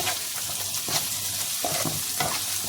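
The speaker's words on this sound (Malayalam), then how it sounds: "ലേശം മഞ്ഞപ്പൊടി ജസ്റ്റ് ഒന്ന് ഇളക്കി മിക്സ് ചെയ്യുക" A spatula stirs turmeric through egg bhurji frying in a pan, scraping strokes over a steady sizzle, close and fairly loud, with no speech.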